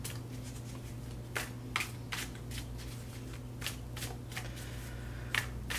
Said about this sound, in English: And a few more shuffles here.